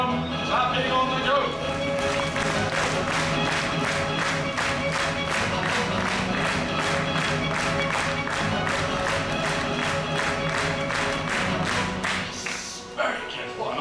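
A cruise ship audience claps in steady, rhythmic unison for a magician's act, a fast even beat that fills the room and fades out near the end.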